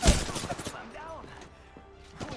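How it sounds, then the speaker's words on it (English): Enemy gunfire in a video game: a sharp, loud burst right at the start, then quieter game sounds and tonal effects with faint voice-like murmuring beneath. "Enemies are shooting at me."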